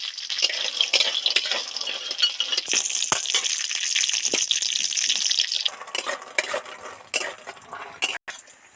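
Yellow lentil dumplings (bori) frying in hot oil, with a steady loud sizzle and scattered clinks and scrapes of a utensil against the pan throughout.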